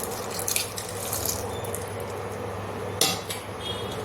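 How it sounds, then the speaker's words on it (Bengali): Dissolved powdered milk poured into a pot of simmering rice pudding (payesh), a steady liquid splash and pour with a few clinks of the pot and utensil, close up, with no talking. "এই যে গুঁড়ো দুধটা যে আমি গুলে রেখেছিলাম দিয়ে দেবো"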